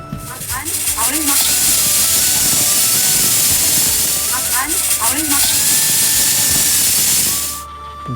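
A pressure cooker with dried peas, water and a pinch of turmeric, cooking for ghugni, lets off a loud, sustained steamy hiss with a thin whistling tone for about seven seconds before cutting off abruptly.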